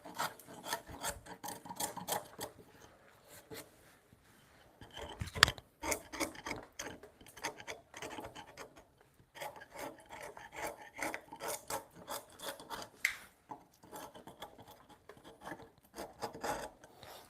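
An adze trims the bark off a wooden stump in close, quiet, irregular bursts of rasping and scraping, with short pauses between the strokes and no voices.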